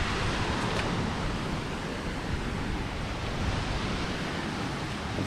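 Surf rolling onto a South Florida beach, a steady broad roar of waves mixed with wind buffeting the microphone, continuous and loud with no speech.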